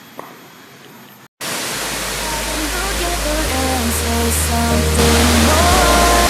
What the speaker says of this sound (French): Tamansari Waterfall.